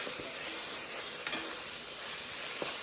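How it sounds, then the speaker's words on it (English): Seasoned meat sautéing with garlic and onions in a pot, a steady close sizzle with occasional stirring scrapes and small pops, no voices. "Now I'm just going to saute up this meat with the garlic and onions and all those seasonings"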